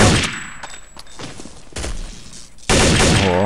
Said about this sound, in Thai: ปืนกันหนัก